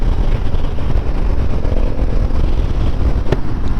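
A 2021 Harley-Davidson CVO Road Glide with a 117 cubic inch engine accelerates hard, its steady, loud, rumbling exhaust roaring close by for several seconds without talk.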